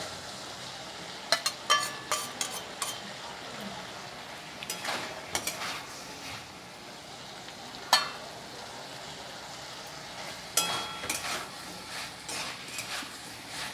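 Fried potatoes are stirred into spice paste sizzling in hot oil in a pan, a constant frying hiss broken by repeated scraping and clanking of the spoon against the pan, close and fairly loud.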